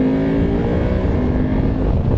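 A BMW F850 GS adventure motorcycle engine pulls hard under acceleration, a dense continuous roar mixed with heavy wind rush, steady and close throughout.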